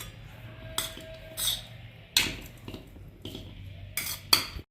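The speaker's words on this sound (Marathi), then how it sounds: "पुन्हा एकदा आपण याला चांगलं कालून घेऊयात" A spoon scrapes and clinks against a bowl in several irregular strokes while lemon juice is mixed into grated carrot, close and fairly quiet.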